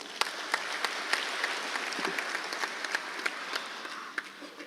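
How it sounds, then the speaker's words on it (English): Sustained audience applause at a forum session of the 16th MEDays, steady crowd clapping with a few sharper individual claps standing out, and no talking over it. "it deserves your applause once again"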